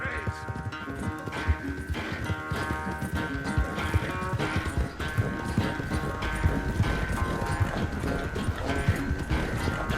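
Horse hooves clip-clop in a steady, close rhythm during a ride in Red Dead Redemption 2, with tack jingling and game ambience beneath.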